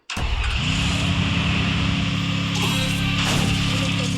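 A vehicle engine cranks and catches, then settles into a loud, steady idle close by, with a low rumbling hum continuing to the end and no speech.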